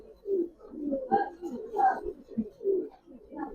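Giribaz racer pigeons coo in soft, repeated throaty bursts close by, with a person's voice speaking intermittently among the calls.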